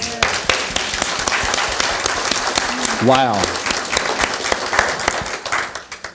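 Crowd applause and hand clapping at a 15-year celebration gathering, a busy patter of many hands with voices and a brief exclamation rising over it midway, then tapering off at the end.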